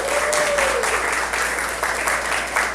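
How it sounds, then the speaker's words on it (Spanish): A church congregation at a full-house service applauding steadily, a dense wash of many hands with a brief voice at the start. "quiero que se den un aplauso porque tenemos casa llena hoy"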